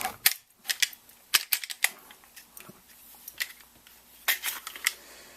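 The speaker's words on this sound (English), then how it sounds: "you got your empty mag, pop your mag in, and then you're ready to go." A magazine goes into an FNH FNX-45 Tactical pistol during a tap-rack drill, heard as a series of sharp metallic clicks and snaps at close range, scattered irregularly with short quiet gaps between them.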